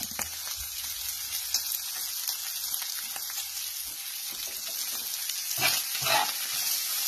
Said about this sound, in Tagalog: isusutay ko muna yung sibuyas, bawang at saka yung beef